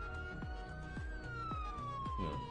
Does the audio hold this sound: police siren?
yes